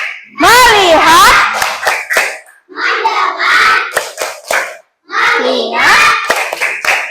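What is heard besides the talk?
children clapping the focus clap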